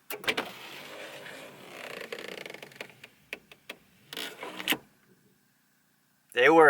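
Motorized automatic seat belts on a five-speed car with a sunroof run along their tracks after the ignition is switched on, giving a short whirring mechanical motor sound followed by a few clicks and a brief quiet gap.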